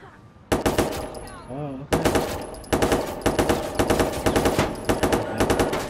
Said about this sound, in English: So let's just test out the gun.